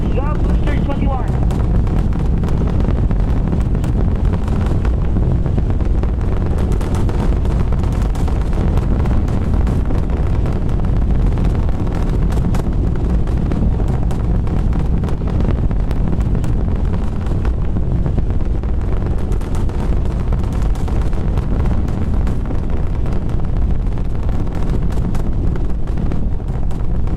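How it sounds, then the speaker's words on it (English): Starship Super Heavy booster launch with 33 Raptor engines, a continuous heavy roar with deep rumble and wind buffeting, sustained and loud throughout, with commentary voices underneath. "Looking nominal on 33 Raptor engines, the Super Heavy booster and the Starship are looking nominal, pitching down range"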